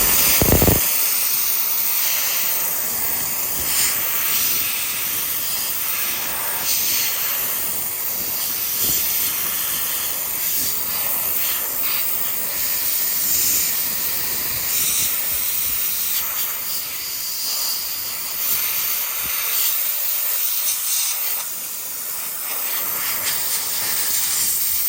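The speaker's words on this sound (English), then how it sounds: "have a go with this thing, handheld steam cleaner" A handheld steam cleaner, low on water, gives a steady, loud hiss of escaping steam throughout, broad and continuous with slight surges, with no voices.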